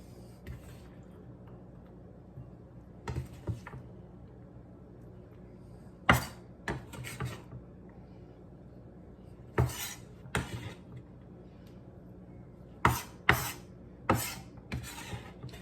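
Chopped olive salad ingredients scraped and tipped into a bowl in a home kitchen, with scattered clinks and scrapes of a utensil against the dish over a quiet background, the knocks coming in irregular clusters.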